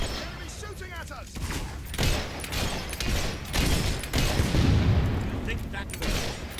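Enemy gunfire in the Fable 3 video game, rapid volleys and booming shots coming in repeated bursts over about six seconds, fairly loud, with a voice talking over parts of it.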